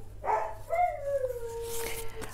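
Dog whimpering and crying indoors, a single close, high, wavering whine that rises and falls over about two seconds against a low steady hum.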